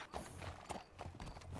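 Horse hooves clip-clop in the game Red Dead Redemption 2 (RedM roleplay), a quiet, irregular run of soft hoof knocks in a steady gait.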